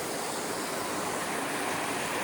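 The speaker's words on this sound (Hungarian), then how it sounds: "Szóval ott pedig első vízesésünk." Rushing waterfall in a gorge of the Slovak Paradise, a close, loud, unbroken roar of falling water with no talking over it.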